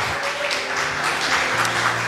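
A church congregation claps enthusiastically in a brief, dense burst of applause, with music sustaining in the background.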